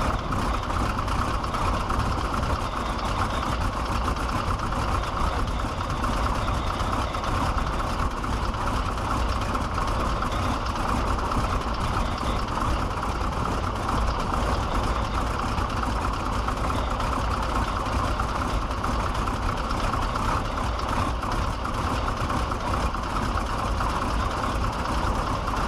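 A Stearman Model 75 biplane's radial engine ticking over at idle, a steady loud low rumble with an even throb running unbroken throughout.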